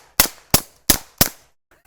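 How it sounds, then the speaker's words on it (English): Four suppressed pistol shots from a Hi-Point and a Glock at a shooting range, evenly spaced sharp cracks about a third of a second apart, each with a short decaying tail, with nothing else heard. "the HiPoint in this string of shots is quieter than the Glock"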